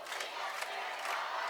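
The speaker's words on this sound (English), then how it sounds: "North Scott crowd getting real loud." Loud high school football crowd of North Scott fans roaring and cheering continuously in an outdoor stadium in Iowa, a dense sustained wall of voices with brief swells.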